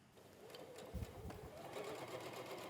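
A sewing machine stitches a quarter-inch seam along fabric for a shopper tote, giving a steady, close mechanical whirr that runs continuously throughout.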